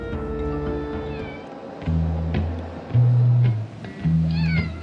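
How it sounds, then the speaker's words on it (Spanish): A cat meows several times in the Hermitage museum, with drawn-out, wavering cries in a row, fairly close, over a bed of music or background sound. "Los gatos son muy importantes en el Hermitage."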